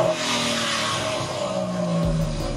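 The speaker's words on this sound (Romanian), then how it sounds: "Hai să auzim un sunet aici de Camaro." A Chevrolet Camaro Bumblebee with a 3.6 petrol engine revs close by, a loud, sustained engine roar with a rising tone near the end.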